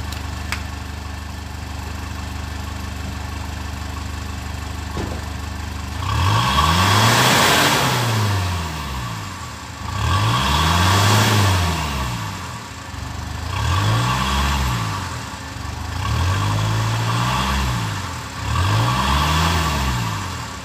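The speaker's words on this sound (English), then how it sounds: "tapakan ko yung accelerator o yung gas ng sasakyan nito." A 2013 Mitsubishi Pajero GLS 3.2 diesel 4x4 idles quietly, then its engine is revved in five strong, evenly spaced bursts that swell and fall back, loud and close.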